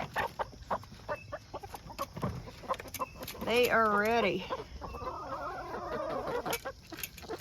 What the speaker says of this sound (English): Time to feed the chickens.